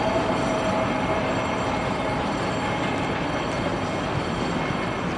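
A train at Queenborough station rumbles steadily and fairly close, a broad continuous roar of wheels and carriages with faint squeal tones, no voices over it.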